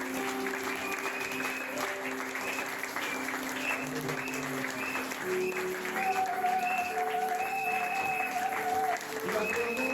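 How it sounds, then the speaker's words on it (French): Church congregation applauding and cheering in acclamation, sustained loud clapping over a steady crowd bed with sung or held voices and music tones running throughout. "Nous voulons te dire merci par nos acclamations."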